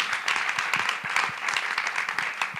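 A church congregation clapping, a dense steady round of applause from many hands that carries on without pause.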